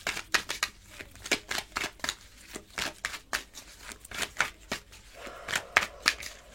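Tarot cards are shuffled up close for a reading in a run of quick, rhythmic riffling slaps and bursts, with no talking.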